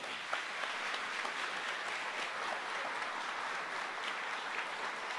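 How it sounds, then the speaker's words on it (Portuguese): Audience applause at a church camp gathering, a dense steady wash of many hands clapping that holds evenly throughout, fairly loud with no pause. "Pode aplaudir"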